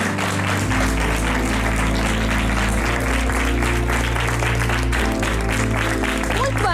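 Applause from an audience fills the room, steady and dense throughout with a continuous hum underneath, while speech-like murmurs blend in.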